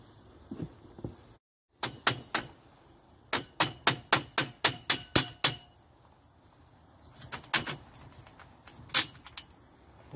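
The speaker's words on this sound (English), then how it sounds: "I need to get a hammer and get that bolt out" A hammer knocks a bolt out of a recycled polytunnel hoop frame for a walk-in brassica fruit cage, with a quick series of sharp metallic strikes in a steady rhythm, then a few scattered later blows.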